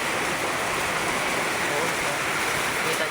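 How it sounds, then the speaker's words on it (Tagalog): Heavy rain pours down steadily in a dense, continuous hiss that stays loud and unbroken throughout, with no other sound rising above it. "Grabe, lakas ng ulan."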